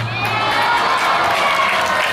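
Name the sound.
audience applauding and shouting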